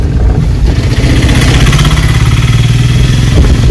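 A car engine accelerating gently while driving, a loud, steady, close low rumble that hums continuously with a slight rise in pitch.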